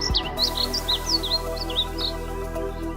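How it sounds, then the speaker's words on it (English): A painted bunting sings a quick run of high, sweet warbling notes, clear and fairly close over a low steady background hum. "Painted bunting."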